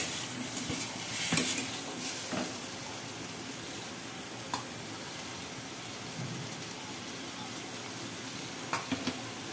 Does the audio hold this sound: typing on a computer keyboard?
no